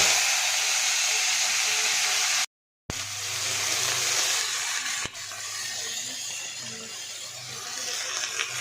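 Cauliflower pieces drop into hot oil in a wok and set off a loud, close hissing sizzle. The sizzle runs steadily apart from a brief dead gap early on and a sharp click midway.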